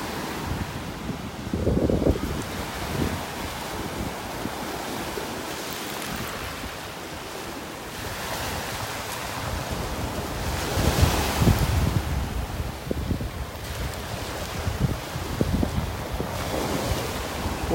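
Wind and breaking surf on a beach in North Naples, Florida at sunset, a steady loud wash of waves with gusty wind buffeting the microphone, swelling in several broad surges.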